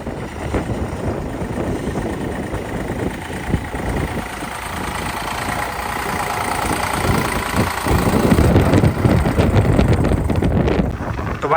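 A Swaraj 855 FE tractor engine idling outdoors on a farm near pond digging work, a steady low rumble mixed with strong wind buffeting the microphone, growing slightly louder toward the end.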